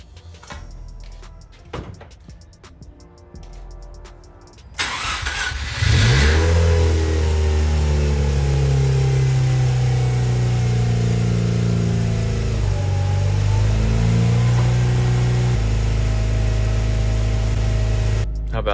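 Mazda RX8 rotary engine cranks and catches after a coolant swap and bleed, then settles into a loud rising and falling rev and high idle that holds close and steady, with a voice talking early in the quiet lead-in.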